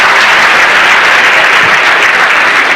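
An audience at a book launch applauds loudly and continuously, a dense, close wash of clapping hands filling the room with no pauses.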